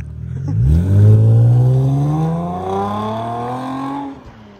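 A tuned BMW 325d E90 diesel with a Stage 1+ remap and full stainless-steel exhaust accelerates hard nearby, its loud engine note climbing steadily in pitch for several seconds before easing off, with no voices.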